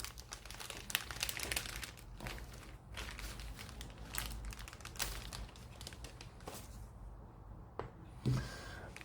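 A plastic bag from an Airfix Westland Lysander model kit crinkles and rustles steadily near the microphone, with soft crackles and a few sharper snaps as it is handled and opened.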